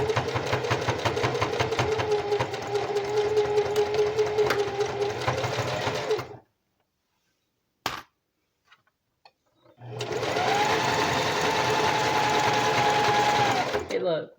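A sewing machine stitching lace runs in a long, steady, loud whirring burst, falls silent for several seconds with a few small clicks, then starts up again at the same close, even pace.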